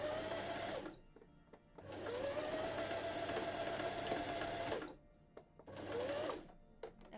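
A sewing machine stitches cosplay fabric near a seam in three steady, loud whirring runs of about one, three and one seconds, separated by brief pauses with small clicks.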